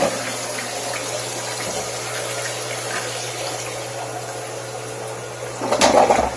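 A bathroom toilet flushes with a steady rushing of water, moderately loud and close, ending in a brief louder surge as the tank refills.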